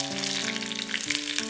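Sliced onion fries in hot coconut oil with mustard seeds, giving a steady, close sizzle with a constant low hum underneath.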